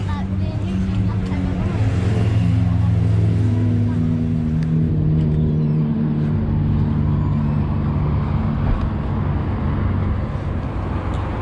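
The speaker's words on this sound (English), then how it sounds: "Oh, that's the Honda Cruiser." A Honda cruiser motorcycle rumbles past at a busy bikers' meeting spot in Matlock Bath, a steady low engine drone that swells and fades under someone talking, with traffic noise around it.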